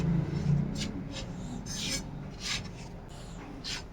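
Scraping and rubbing strokes of a spoon stirring blended dry fruits for makhana laddu in a bowl, close and repeated every half second or so, with no voices.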